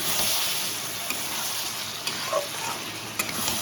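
Eggplant curry cooked in fish oil, with fish fat and fish maw, sizzles steadily in a pan while a spoon stirs it, adding a few soft scrapes and clicks over the constant frying hiss.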